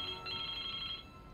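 A telephone rings in the adventure game Baphomets Fluch 2, one short electronic ring that holds steady for about a second and then stops, faint over a soft background.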